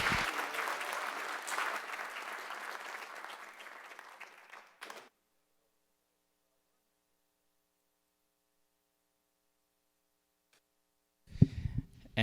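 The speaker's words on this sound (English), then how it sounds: "Can we get one more round of applause for all of the winners tonight?" Applause for award winners at a city commission meeting, a soft, fairly distant patter of clapping that fades away after about five seconds, followed by long silence and then a few faint knocks and rustles.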